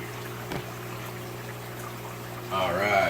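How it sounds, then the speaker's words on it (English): Water begins draining from a bucket into an aquarium sump, a sudden trickling gush that starts near the end after a steady hum, close and moderately loud. "Listen for the water start draining."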